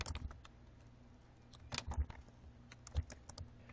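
Quiet, close-up typing on a computer keyboard, a few irregular bursts of light key clicks separated by short pauses, faint against a low background hum.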